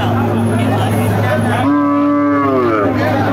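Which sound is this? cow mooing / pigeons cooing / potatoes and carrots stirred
cow mooing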